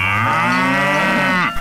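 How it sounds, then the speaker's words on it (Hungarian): A single loud, sustained cow moo played on a Hungarian radio show, deep and steady for about a second and a half before cutting off. "Rám találtál, én vagyok a magyar tehén."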